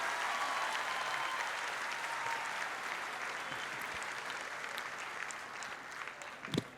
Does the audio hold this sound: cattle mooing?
no